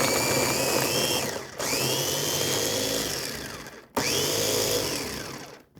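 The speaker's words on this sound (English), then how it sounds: "All right, let's give it a blend." A kitchen blender whirs loudly and steadily, mixing a chicken marinade of lemon and rice vinegar, with two short pauses where the motor drops out and restarts.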